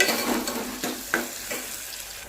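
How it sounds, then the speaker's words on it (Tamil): Onion, garlic and curry leaves sauté in a pan of oil for black chickpea curry, giving a steady close sizzle with a few soft scrapes and stirring knocks from a spoon. No one speaks. "வெங்காயம் நல்லா வதக்கிக்கலாங்க"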